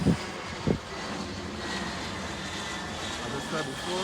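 A fixed-wing airplane on approach to Grantley Adams International Airport in Barbados passes overhead, a steady, broad engine roar that holds for several seconds at moderate distance, with a couple of brief knocks near the start.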